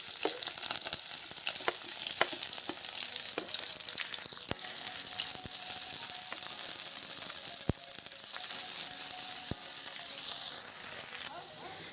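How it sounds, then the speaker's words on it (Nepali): Onion fries in hot oil alongside golden-browned cumin seeds, giving a dense, steady sizzle close up with scattered spatula taps and faint clicks throughout. "म जिराको पछि चाहिँ यसमा एड गर्दैछु यो अघि राखेको प्याजलाई पनि"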